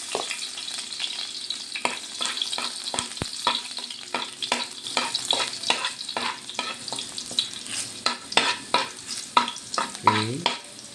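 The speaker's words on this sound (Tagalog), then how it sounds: "Okay guys, so unahin natin paglagay ang bawang." Garlic fries in a small amount of leftover oil, crackling and sizzling close by while a utensil stirs and scrapes the pan in frequent short strokes.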